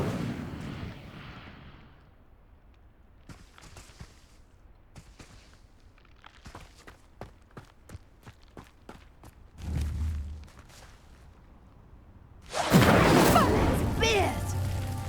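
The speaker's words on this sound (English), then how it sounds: "The flames make the pyre sink." Fire spell burning pyres in the Hogwarts Legacy video game, heard as a low rumbling whoosh partway through, then a loud sustained roaring blaze at the end, after sparse light clicks and steps.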